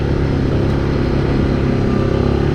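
A 2024 Yamaha Grizzly SE ATV with a CVT climbs a rocky hill, its engine giving a loud, steady, rumbling drone close by, with faint rattling underneath.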